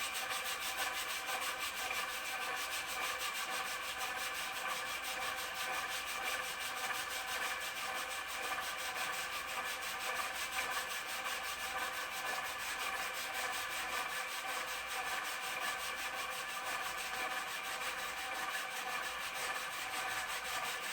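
Steady, continuous sanding of a foam speaker-surround edge with 320-grit sandpaper on a motorized Palmgren 10-inch rotary table, an even hissing rub that runs without pause and with no talk.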